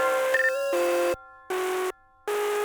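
Bright synth chirp tones from an FL Studio new wave beat play in a clipped, repeating pattern: sustained buzzy notes with rich harmonics, stopping and restarting in short bursts.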